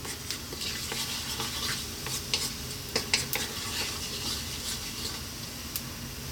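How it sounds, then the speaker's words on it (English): Cumin seeds sizzle in hot sunflower oil in a wok, a continuous crackling hiss with light scraping and a few sharp clinks of a utensil against the pan, with no talking. "I'm going to drop in those cumin seeds. And just for a few seconds, let them do their thing in that oil."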